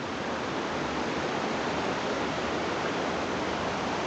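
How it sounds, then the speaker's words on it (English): Steady, dense rushing of falling water from Wheeny Gap Waterfall near Bilpin in the Blue Mountains, constant and full with no pauses or voices. "Wheeny Gap Waterfall"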